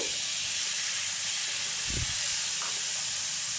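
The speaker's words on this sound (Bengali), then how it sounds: "এবার টমেটো কুচিটা আমি এর মধ্যে দিয়ে একটু নেড়ে নেব" Chopped tomato fries in hot oil in a pan, giving a steady, broad sizzling hiss with a faint low thump partway through.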